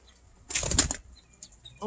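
A flock of birds takes off outdoors on a cold, rainy morning with a brief, loud burst of flapping wings lasting about half a second, then a faint flutter, and a voice begins at the very end.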